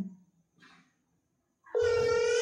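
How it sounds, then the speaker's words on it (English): A telephone rings near the end, a loud electronic trill bursting in after near silence and a few faint murmurs and rustles. "you're hearing the phone ring"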